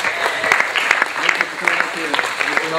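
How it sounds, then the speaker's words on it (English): An audience at a boot camp evening session claps in a sustained round of applause, lively and close, with voices calling out over the clapping. "give him a round of applause"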